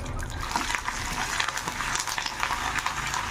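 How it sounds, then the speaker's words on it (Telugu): Mustard seeds, cumin and curry leaves crackle and sizzle steadily in hot oil for a tempering, a dense close frying hiss with scattered pops throughout. "ఇదిగా ఆయిల్లో వేగాలండి"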